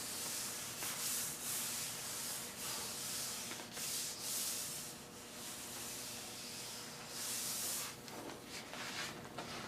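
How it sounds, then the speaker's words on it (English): An IMAGECLIP transfer sheet peels off a printed color image, a close, faint rasping, tearing rustle in repeated bursts and pulls across the whole stretch, with no voices. "we can peel the transclip from the color image"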